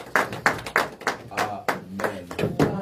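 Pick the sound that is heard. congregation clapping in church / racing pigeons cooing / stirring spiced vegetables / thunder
congregation clapping in church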